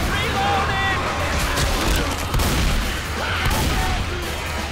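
Sniper rifle fire in Left 4 Dead 2, with shots cracking amid dense, loud game noise and chaotic action, while players talk over it throughout.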